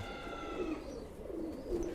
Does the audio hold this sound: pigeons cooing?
yes